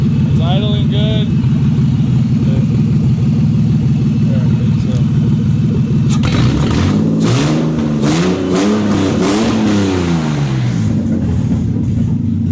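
A BMW E30 fitted with a swapped S52 inline-six engine idles steadily and loudly throughout, joined by someone talking partway through.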